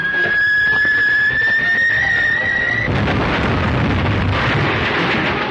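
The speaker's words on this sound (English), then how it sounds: "That explosion was directly north of here." A loud explosion bursts in after a high whining tone, leaving a broad, roaring rumble that fills the rest of the scene in an old adventure serial.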